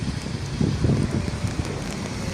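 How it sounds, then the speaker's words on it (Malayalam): Steady outdoor autumn wind in Germany roaring with a rushing, rain-like patter throughout, with low gusty rumble buffeting the microphone. "ജർമ്മനിയിൽ ഇപ്പം നല്ല കാറ്റാണ്. ഇപ്പോൾ മഴയും കാറ്റും ഒക്കെ"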